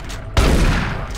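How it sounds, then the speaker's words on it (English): A loud, close blast from a shotgun in the video game Doom 3 cuts in abruptly after a short pause. A rumbling burst follows, then trails off over the next second, with no voices. "take three shotgun shots to the head"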